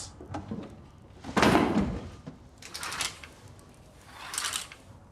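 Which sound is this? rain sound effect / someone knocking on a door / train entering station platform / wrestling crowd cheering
someone knocking on a door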